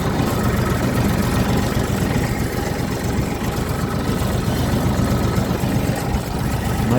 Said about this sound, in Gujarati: મારે ત્યાં ટ્રેક્ટર કાઢે છે.